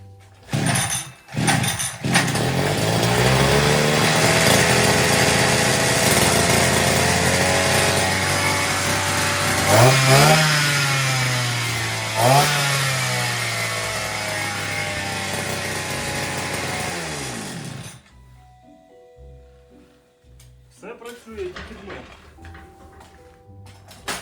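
A serviced Dnipro-M petrol trimmer engine is pulled into life and runs loud and close, its revs rising and dipping a few times before it cuts out, leaving a quieter tail with some clatter and a voice.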